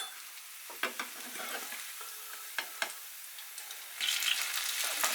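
German potato pancakes fry in oil in a pan, a close crackling sizzle with several sharp scrapes and taps as they are flipped, the sizzle swelling louder toward the end.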